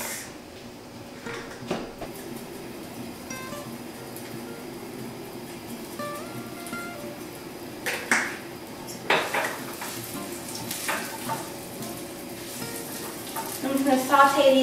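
Garlic and chili flakes sauté in a pan for penne alla vodka, a steady low sizzle running throughout with scattered clinks of utensils and cookware, a few sharper knocks near the end and brief talk in the background.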